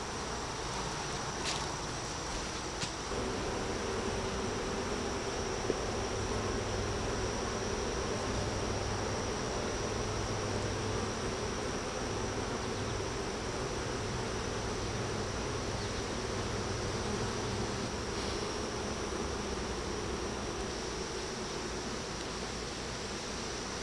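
Honeybees buzzing on a hive frame, a dense continuous drone of many bees close by, steady and even in loudness throughout with no speech.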